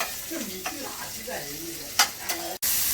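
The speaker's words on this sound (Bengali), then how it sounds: "পেঁয়াজটা ভাজা হোক" Chopped onions sizzle steadily in hot oil under a little quiet talking, with a few sharp stirring clacks and a brief dropout just before the hiss resumes louder.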